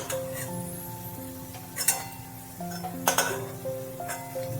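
Kasuri methi boras fry in oil with a soft, steady sizzle, joined by a few clinks and stirring scrapes of a utensil against the pan, close and fairly quiet.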